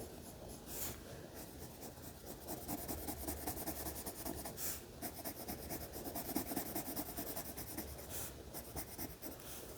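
Pencil colouring on paper makes a soft, continuous scratchy rubbing in quick back-and-forth strokes, close and quiet, with a few brief pauses and no talking.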